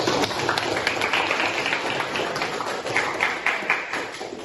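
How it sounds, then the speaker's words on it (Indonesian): Students in a Pancasila and civic education class at a high school clap for all the presenting groups, a dense steady patter of hand claps filling the room for several seconds. "Tepuk tangan bagi semua kelompok yang telah melakukan."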